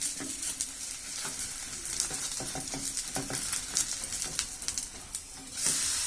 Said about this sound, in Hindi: दूसरी साइड पे भी थोड़ा सा ऑयल डालेंगे और इसको पलट लेंगे, साइड इसकी चेंज करेंगे